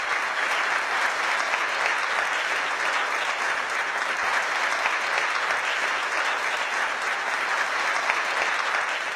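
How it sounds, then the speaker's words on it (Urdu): Audience applause at a public event in Pakistan honouring army soldiers, a dense, sustained clapping from a large crowd, loud and even throughout with no pauses. "آپ کی بھرپور تالیاں"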